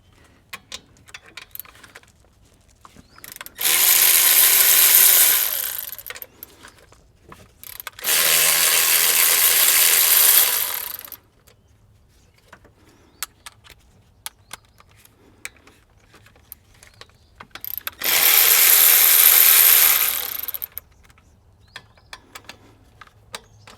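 Ratchet wrench removing the bolts on a GM OBS truck's Vortec V8 engine, in three loud sustained bursts of rapid clicking separated by quiet pauses.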